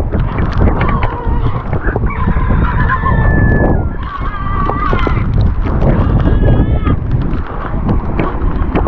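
Chickens on a mountain farm in Santican, Danao, Cebu cluck and squawk near and loudly in an irregular chorus, with other rustling activity and a voice speaking in the background.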